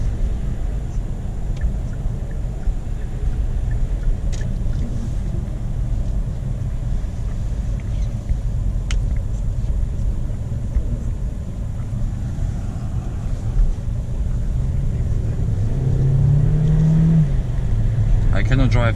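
A 2020 Kia Sportage driving in heavy rain on a German road, with a steady low road and engine rumble throughout and someone talking over it.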